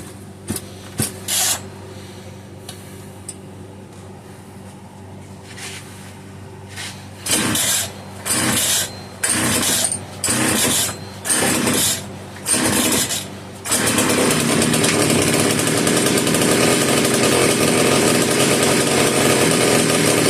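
A rare Italian-made Castor 330 Antivib chainsaw, an Alpina model, gives a few sharp taps and then a series of short sputtering bursts as it is pulled to start, before catching into a loud, continuous run.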